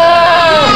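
A native goat bleats once at a livestock market: a single wavering, nasal cry that is close and loud and fills the short moment with no talk over it.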